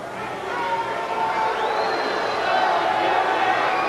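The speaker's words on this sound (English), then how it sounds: "he's asking these fans to apologize for cheering Steve Austin" Wrestling arena crowd roars and cheers steadily, a dense wash of many voices at full volume throughout, with a voice rising over the noise partway through.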